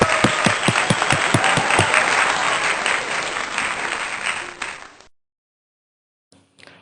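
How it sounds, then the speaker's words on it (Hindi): A congregation at a Sunday worship service applauds. Several sharp, close claps ring out at the start, then dense clapping continues for about five seconds before stopping abruptly. Silence follows, then a faint brief sound near the end. "तालियां"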